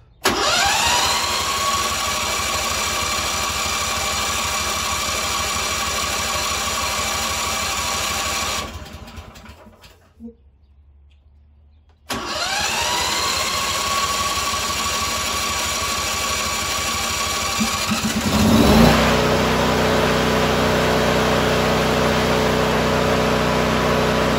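A DuroMax XP15000EH generator converted to natural gas cranks and fires, runs with a loud steady engine drone, cuts out into a brief near-silence, then restarts and settles back into a continuous close-up roar.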